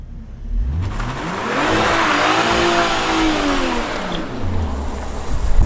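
A Stage 1 Evolve tuned A90 Toyota Supra launches on a stock quarter-mile drag run, its engine revving hard through several rising gear pulls, then easing off as the car passes near and loud.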